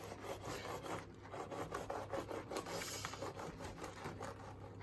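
A baked Paris-Brest choux pastry crown being cut with a knife, giving a steady, close rasping and rubbing sound with soft crunchy texture throughout, no speech.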